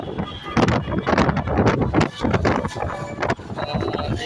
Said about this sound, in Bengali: এই অন্ধকারের সঙ্গে হাওয়া বয়ে যাচ্ছে দেখা যাচ্ছে